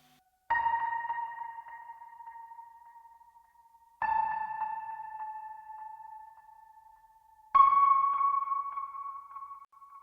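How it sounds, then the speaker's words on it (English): Three sustained piano notes played through a Leslie rotating speaker, each struck then left to ring and fade, with a warbling, swirling tone, spaced a few seconds apart. "this is what it sounds like with the Leslie speaker on the track."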